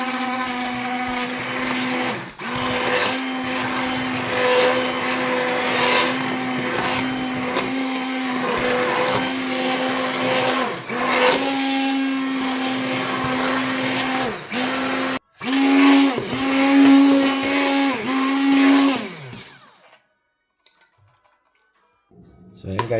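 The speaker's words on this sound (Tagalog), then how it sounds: "So, ayan. Blender natin." An electric blender whirs steadily while blending squash sauce for kare kare, loud and close, with brief pitch dips before it stops and falls nearly silent.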